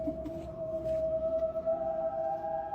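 A creepy whale-like call comes from a sewer drain, a sustained eerie tone that wavers slightly, faint and hollow over low background rumble.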